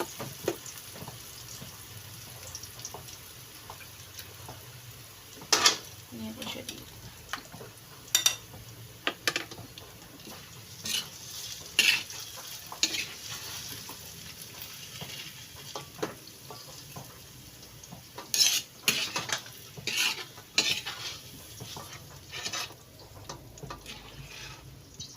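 Sautéed eggplant is added to beaten egg in a hot pan, giving a steady low sizzle with scattered clinks and scrapes of a utensil against the pan; there is no talking.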